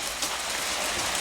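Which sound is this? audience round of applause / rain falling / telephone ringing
rain falling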